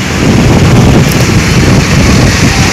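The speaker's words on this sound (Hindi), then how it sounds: "तेज हवा चल रही है" Strong storm wind gusts across the microphone in Agra during sudden bad weather with light rain, a loud constant rushing buffet with no voices.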